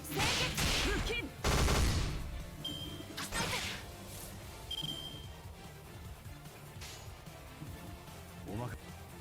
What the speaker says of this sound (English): My neighborhood is, as always, firing off fireworks like crazy.